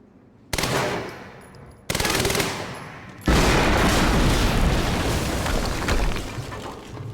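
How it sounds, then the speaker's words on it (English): Explosions and gunfire in the video game Quantum Break: sudden loud blasts followed by sustained rapid automatic fire and debris, dense and close, with no talking. "HQ, we just heard an explosion near the harvesting perimeter."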